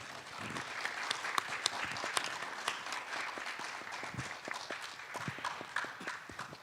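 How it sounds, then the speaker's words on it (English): Warm applause from an audience thanking panelists at a summit session on green finance, steady, dense clapping that carries on evenly throughout. "we should thank all panelists with a warm round of applause."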